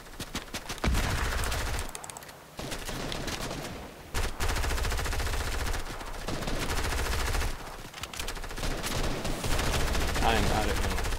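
Fortnite duos match with repeated bursts of rapid gunfire and single shots across the span, loud and close, broken by short gaps, with players talking over parts of it.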